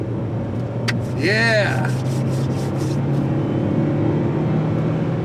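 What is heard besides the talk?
car driving on the road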